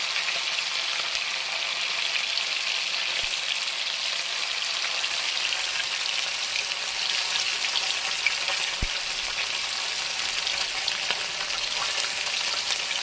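A steady, dense sizzle comes from fish frying in hot oil in a pan, among them bele and bhola fish cooked in small batches, loud and continuous throughout with no talk.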